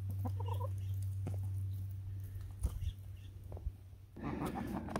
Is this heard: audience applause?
no